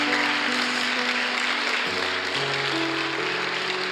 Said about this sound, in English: why don't you give them another round of applause this morning?